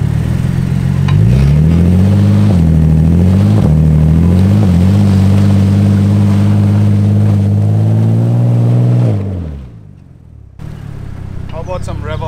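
A straight-piped BMW E46 engine revs hard and very loud at close range, its pitch rising and falling through several blips before the noise drops off sharply near the end.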